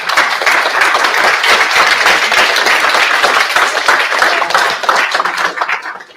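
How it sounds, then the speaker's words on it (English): An audience at a conference on UAP, science and national security claps for a panel. Thick, sustained applause holds steady for several seconds, then thins and fades away at the end. "Big round of applause for our panelists, please."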